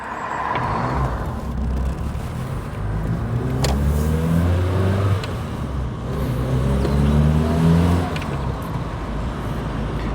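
Triumph Acclaim car engine and exhaust heard from inside while driving, a steady, slightly rough drone that rises and falls with gear changes and acceleration, close and continuous with no talking.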